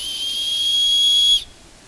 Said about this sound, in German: Ja, pfeift.